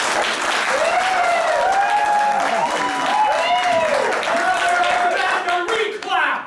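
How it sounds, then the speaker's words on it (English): An improv comedy audience claps together in a dense burst of applause mixed with some whoops and voices, fading slightly toward the end. "clap on 3"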